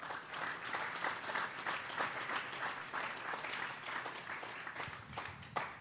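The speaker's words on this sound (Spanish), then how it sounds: "Denle un fuerte aplauso al Señor." Church congregation clapping loudly in praise during a sermon, many hands beating with some rhythmic sharp claps standing out, steady and sustained, slightly distant in a reverberant room.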